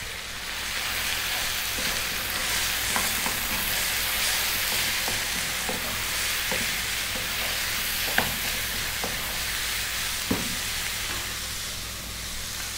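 Turmeric, chili, cumin and coriander sizzle steadily in a hot pan for lamb curry, with a constant frying hiss broken by a few scrapes and taps of stirring, close and alone without talk.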